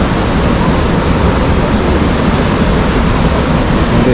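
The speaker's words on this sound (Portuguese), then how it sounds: "E eu quero mostrar pra vocês a cachoeira." A waterfall in Japan roars as a steady, dense, loud rush of falling water, close and constant with no voices over it.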